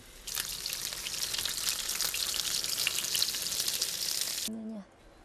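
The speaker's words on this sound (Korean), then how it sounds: "고열량 재료를 기름에 지지고 튀기는데요" Loud, crackling sizzle of high-calorie food frying in hot oil in a home kitchen, steady and busy for several seconds before stopping abruptly, followed by a brief faint voice.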